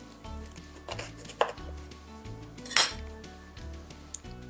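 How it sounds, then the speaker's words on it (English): A knife cutting the stem off a small pumpkin, a few sharp close chops and clicks of the blade against a board, with brief clinks between them and no talk. "I just cut it off"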